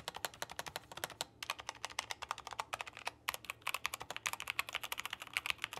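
Rapid typing on a Tecware Phantom 87 TKL mechanical keyboard, close and crisp, a steady stream of clacky keystrokes with a brief pause around the middle, no voices.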